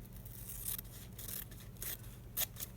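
Scissors snip around a paper embellishment for a craft project, with soft, faint, irregular cutting strokes and light rustling, close by and alone.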